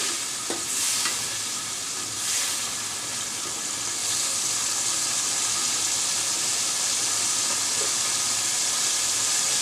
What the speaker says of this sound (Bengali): মাছটা একটু কষিয়ে নিচ্ছি